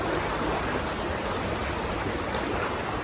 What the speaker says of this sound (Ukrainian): ось річки з правої сторони